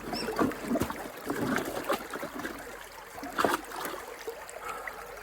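Running water rinsing a gold sluice mat outdoors, a soft steady trickle and splashing with occasional louder splatters, moderately close and alone without talk.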